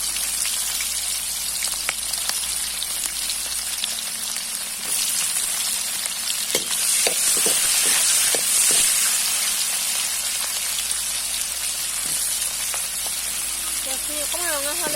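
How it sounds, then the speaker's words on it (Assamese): Chopped onions sizzle and crackle in hot oil in a home kitchen pan, a steady hiss with scattered pops throughout, dipping briefly before picking up again as a voice speaks over it. "এতিয়া পিঁয়াজখিনি দি দিছো"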